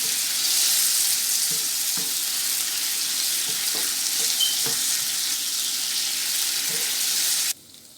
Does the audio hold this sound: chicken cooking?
yes